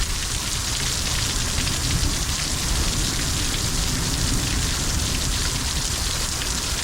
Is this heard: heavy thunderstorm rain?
yes